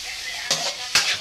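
Garlic and onion drop into a hot pan, bursting into two sharp sizzling hisses over a low background frying noise, close and fairly loud.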